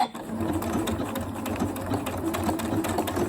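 A Janome Royal sewing machine stitches an appliqué with a steady, loud mechanical whir and a fast needle rhythm throughout, close to the microphone, with no talking.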